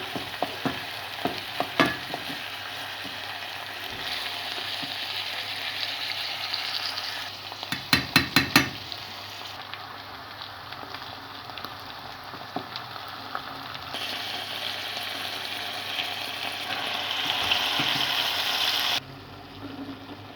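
Black cabbage (karalahana) sautéing in a pan gives a steady, close frying hiss with stirring scrapes and a brief cluster of sharp clatter midway.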